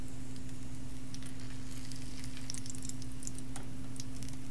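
Pork belly skin fries in a pan without added oil, giving a constant fine sizzle with scattered crackles and pops over a steady low hum, close and fairly quiet.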